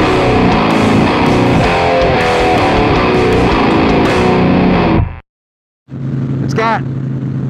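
A stage-two Harley-Davidson motorcycle with a heavy breather intake, Vance and Hines big radius dual exhaust and a tall Williams cam rumbles loudly and steadily at close range, cuts out abruptly to silence, then resumes idling with a whine rising over it.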